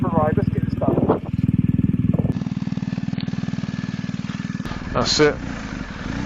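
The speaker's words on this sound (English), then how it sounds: "Let's go for a little run then. First time I've ridden this bike." A motorcycle engine runs steadily at idle as a rider sets off on a new bike for a first ride, a short rev near the end, with a brief spoken remark over the engine.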